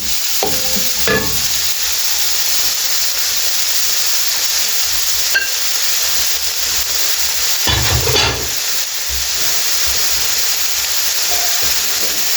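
Spinach frying in about three spoons of hot oil for a vegetable kadhi, a loud continuous sizzle and hiss with a few brief clatters and stirring scrapes.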